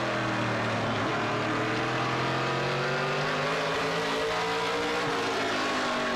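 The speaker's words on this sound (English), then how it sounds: "You can hear just off the corner where the car wants to break traction." A NASCAR Pinty's Series stock car at the CRS Express 300 in 2016 roars off a corner, its engine note rising and wavering as the rear tires threaten to break traction, loud and close with other cars audible behind.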